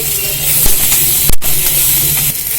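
Onion, curry leaves and fennel seeds sauté in a hot pan for green peas gravy, giving a loud, steady sizzling hiss that runs the whole time with brief shifts and crackles.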